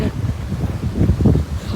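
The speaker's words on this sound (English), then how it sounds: "This crazy wind out here." Strong wind storm blowing, a short burst of gusty buffeting rumble hitting the microphone up close, loud and uneven, with no voices.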